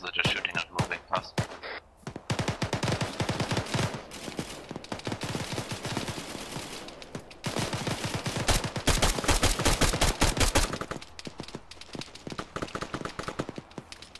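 Sustained, loud exchanges of rifle and machine-gun fire in Arma 3, crackling almost without pause, with faint voices beneath the shooting.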